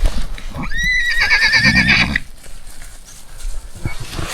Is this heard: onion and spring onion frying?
no